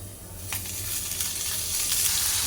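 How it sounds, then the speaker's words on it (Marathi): Chopped tomato, ginger and garlic fry in hot oil for a ghee chicken curry, giving a steady close sizzle that grows slightly louder with occasional stirring scrapes, with no talking. "हे थोडं एक पाच ते दहा मिनटं चांगले हे भाजून घेऊया"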